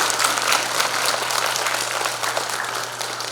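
A crowd of delegates applauds at a party convention, dense continuous clapping that stays loud and even across the few seconds, with a low steady hum underneath.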